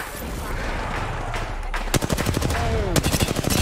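Gunfire in the video game Apex Legends, a quieter stretch giving way to sharp, loud, closely spaced automatic shots in quick bursts, near and punchy, with a brief tonal whine between volleys.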